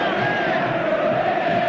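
A dense football stadium crowd roars continuously, a loud, even wash of cheering and shouting that never breaks.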